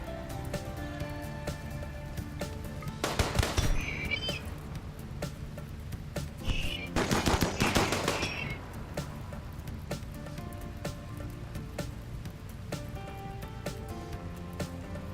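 Gunfire in a RimWorld battle plays as two loud, crackling volleys about four seconds apart, each lasting roughly a second, over a steady background of game music and ambience.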